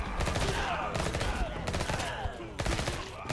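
Rapid Uzi gunfire in the video game Bloodshed, a survivors-style shooter, crackles in several dense bursts with brief gaps, loud and up close.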